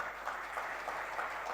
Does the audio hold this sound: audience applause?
yes